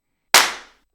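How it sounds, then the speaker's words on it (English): A single sharp clap sample in a Logic X loop, one crisp close hit with a quick fading tail, alone after silence. "I'm going to add a clap to it."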